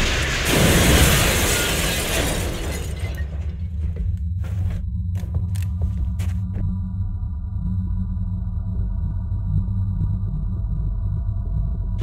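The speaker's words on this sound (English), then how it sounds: "Rockets away." Rocket launch in XCOM Enemy Within: a loud burst and roaring rumble in the opening seconds, fading into a lingering low rumble with scattered mechanical clicks and a faint sustained hum.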